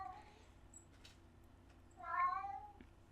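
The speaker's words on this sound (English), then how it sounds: "So you're welcome for the cat noises." A house cat meows in a short drawn-out call near the end, fairly close and clear, after a couple of faint earlier chirps over a quiet room background.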